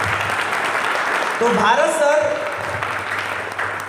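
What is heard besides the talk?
audience applause welcoming a speaker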